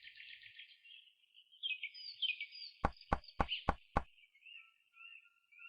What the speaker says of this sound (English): let's knock on the door and say hi